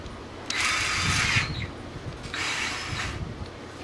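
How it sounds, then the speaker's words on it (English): Battery-powered drill with a keyless chuck whirring in two bursts of about a second each, close and fairly loud, with a short pause between and no talking. "this is a battery powered drill and you can put a shaft in it"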